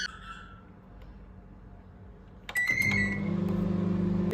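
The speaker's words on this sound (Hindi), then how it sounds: "मैं ये जो डार्क चॉकलेट है इसको मेल्ट होने के लिए माइक्रोवेव करूँगी।" A kitchen microwave oven starts up to melt dark chocolate: a few beeps, a click, then a steady close electrical hum with a faint whine running on alone.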